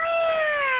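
A single drawn-out meow from an upset cat on a porch, loud and close, its pitch gliding slowly downward.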